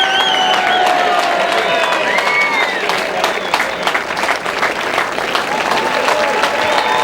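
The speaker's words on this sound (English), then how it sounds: "please give him a big round of applause" A crowd applauds and cheers for the final stage winner of the Jayco Herald Sun Tour 2006 cycling race, a steady dense roar of clapping with whistles and voices over it.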